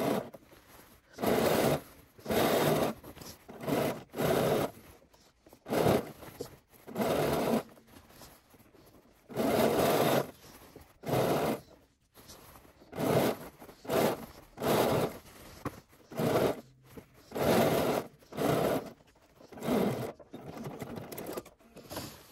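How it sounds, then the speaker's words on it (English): Sewing machine stitching along a pants waistband and through belt loops, running in repeated close bursts of a second or two separated by short pauses, with no voices. "we've sewn that all the way down, all the way across"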